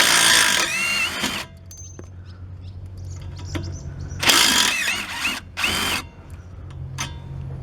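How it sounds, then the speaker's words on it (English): A power tool drives a 10mm socket to remove the lower bolt of an air suspension shock on a Buick Park Avenue Ultra, with three loud, close whirring bursts, the first long, the last two shorter, separated by quiet pauses. "now I'm going to take a 10mm socket to get off the bottom of this shock"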